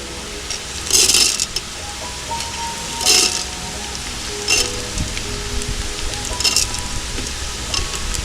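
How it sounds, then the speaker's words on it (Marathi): Coconut and dal being sautéed in a pan over a wood-fired stove, a steady low sizzle with periodic bursts of stirring and scraping against the metal, close and moderately loud, no voices. "हे छान परतून घेऊया आता."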